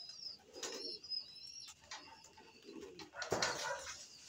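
Birds coo and flutter softly inside a tower, with scattered chirps and a brief burst of wing flapping near the end.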